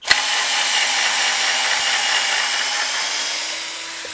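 A Genesis 12V lithium-ion cordless drill driving screws into wood whines steadily at high speed, starting with a sharp click and running continuously, close and loud.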